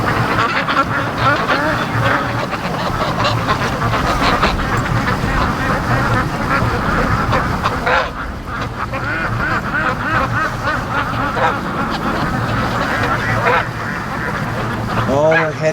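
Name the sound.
ducks quacking on the way to the lake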